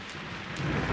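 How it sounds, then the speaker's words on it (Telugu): Steady heavy rain pours down in a thunderstorm, with a broad hiss throughout and a deep thunder rumble swelling near the end. "వర్షం"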